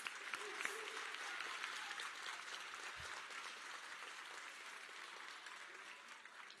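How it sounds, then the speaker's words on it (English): Graduation audience at a high school ceremony clapping in a sustained round of applause, a dense steady patter of many hands heard from a distance. "Give a round of applause."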